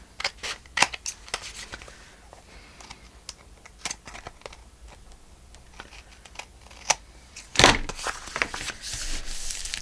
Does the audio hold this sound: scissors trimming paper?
yes